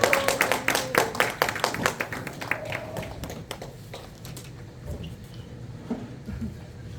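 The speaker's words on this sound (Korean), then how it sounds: "앞으로 모실 때 큰 박수 부탁드리겠습니다." Loud applause from a crowd, many hands clapping densely at first, then thinning out and fading to scattered claps.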